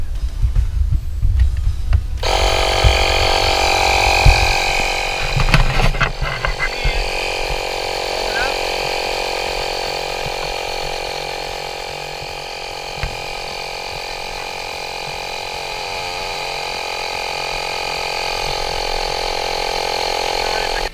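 A small handheld air pump runs steadily, inflating an offroad solar shower tube toward 60 psi. A rough mechanical rattle at the start gives way to a continuous even drone that holds for about twenty seconds, close and loud.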